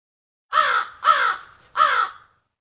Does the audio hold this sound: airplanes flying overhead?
no